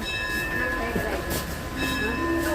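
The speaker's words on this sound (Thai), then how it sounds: "ไปขึ้นรถไฟ" Steady rumble of a train running along the track, with a long, even hum throughout and faint voices in the background.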